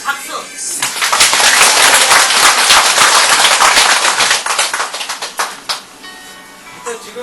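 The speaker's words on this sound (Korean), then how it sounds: "자, 박수." Loud, dense clapping from a crowd at a 2013 delegates' general assembly of a Pacific War victims' association. It swells quickly, stays strong for several seconds, then thins into scattered claps, with brief voices at the edges.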